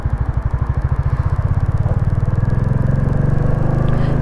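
A Royal Enfield Classic 350 single-cylinder motorcycle thumps steadily while being ridden, a loud, close, rhythmic low engine pulse with a constant rumble and no voices.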